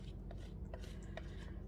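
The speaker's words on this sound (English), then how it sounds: "we're just gonna grate it in there" Frozen butter grated by hand into drop-dumpling dough for chicken and dumplings, a soft continuous rasping scrape with faint repeated strokes, close and quiet, with no talking.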